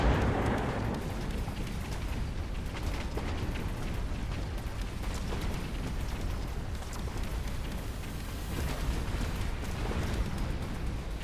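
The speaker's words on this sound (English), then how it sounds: "So beautiful to watch those rockets go and explode" Rockets in a strategy video game rain down and burst in a dense, continuous stream of crackling explosions and rumbling booms, loud and steady throughout.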